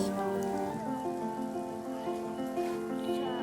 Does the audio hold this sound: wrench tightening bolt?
no